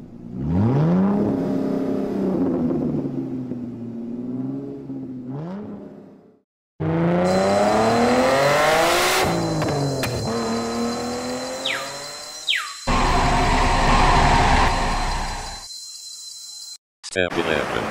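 A car engine in a game hums and revs, rising and falling in pitch as the car drives away. Loud whirring is broken by short gaps, with bright tonal bursts and music-like effects layered over it.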